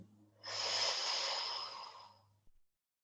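A long, steady exhale of breath during a breathing exercise, close and fairly loud, a breathy rush lasting about two seconds before stopping abruptly.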